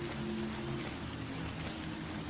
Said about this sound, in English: Everything is all nice and shiny now with the rain.